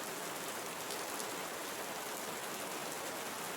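Steady, dense tropical rain falls across a Costa Rican rainforest, a continuous enveloping hiss of countless drops with no breaks, no talking and no other sounds standing out.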